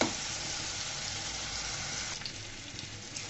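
Ginger, garlic, onion and green chili sizzle steadily in a hot pan for a chicken curry with potato and pointed gourd, a continuous close frying hiss with faint stirring clicks near the end.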